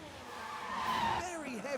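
Car tyres locking up and skidding on a wet Silverstone track in F1 Manager 2023, a high rising-and-falling screech over steady engine noise lasting almost two seconds, with a voice talking over it.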